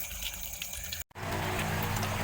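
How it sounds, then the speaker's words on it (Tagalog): Water runs over chopped frog meat as it is rinsed at a crayfish pond, a steady splashing stream that briefly cuts out, then resumes fuller and stronger. "Baluyin lang natin ng tubig."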